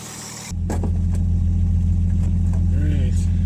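A 1962 Rambler Classic, running for the first time in 15 years, catches and settles into a steady, loud idle with a low rumbling hum. Brief voices and small clicks sit faintly over the engine.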